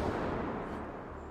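A gunshot in the hunting game Prehistoric Hunt, fired at an albino pteranodon: a single dense, muffled blast that fills the clip with broad low rumble and fades slowly, with no one speaking.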